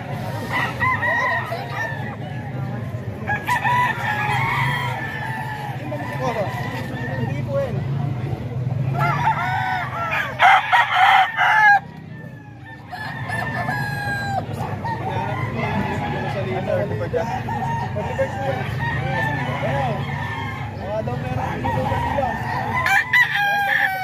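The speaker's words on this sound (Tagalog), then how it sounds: "Mga manok ni Sir Nelson" Roosters crow repeatedly over steady clucking from a group of chickens at a Filipino poultry sale, with people talking and a murmur of voices throughout.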